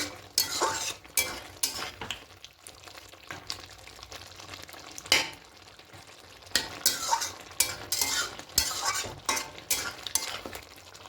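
Chicken cooking without oil in a covered pan over medium heat, a soft sizzle with scraping and stirring clatter from a utensil against the pan, steady and moderately quiet.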